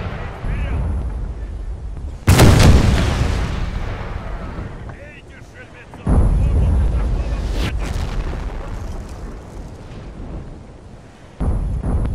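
Cannon artillery fire from a Napoleonic-era battle in Napoleon: Total War, with heavy booming blasts at intervals over a constant rumbling battlefield din.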